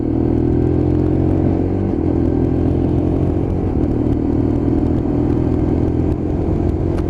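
A Lexmoto LXR 125cc Euro 5 motorcycle in satin red is ridden, its engine a loud, steady close drone with wind rumble and a slight shift in pitch partway through.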